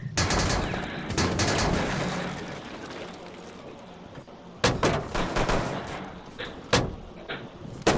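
Gunfire during a video game shootout, with stretches of rapid automatic shots giving way to sharper single cracks and bangs, loud and close, mixed with game action noise.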